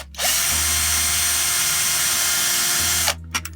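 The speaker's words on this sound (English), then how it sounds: "I'll get the Dremel out and show you when I'm doing that." A Dremel rotary tool grinds into a metal grain tip trailer part being fitted with quick hitches, a loud steady high-pitched whine lasting about three seconds before stopping, followed by a few short clicks.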